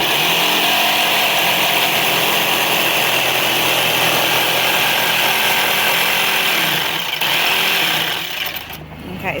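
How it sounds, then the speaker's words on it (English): Close and loud, a jigsaw cuts into a wooden drawer to fit an outlet, its continuous high buzzing grind running unbroken for several seconds with a brief dip near the end. "so the jigsaw just goes in like this"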